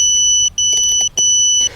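Rekon 7 Pro large FPV drone, battery removed and props off, emits a loud, sustained two-tone electronic beep that cuts off briefly twice, with faint handling clicks in between.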